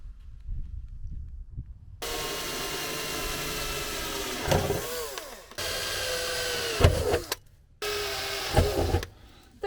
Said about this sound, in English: Right, time to do some drilling.